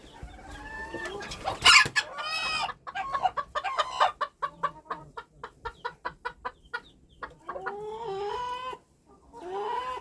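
Bantam chickens cluck in quick repeated bursts while a rooster crows loudly nearby, a busy farmyard chorus with short pauses between calls.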